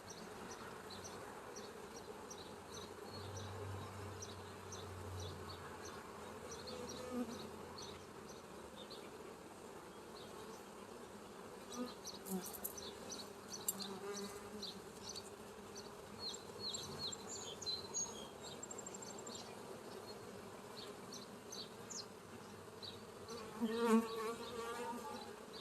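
Honey bees buzz steadily around open hives during a weekly farm inspection, a dense continuous drone filling the whole stretch with faint human movement and a brief louder knock near the end.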